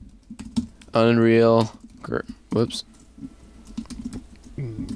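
Rapid clicks of typing on a computer keyboard come in short bursts between spoken words, as a man names a repository, the keystrokes light and close.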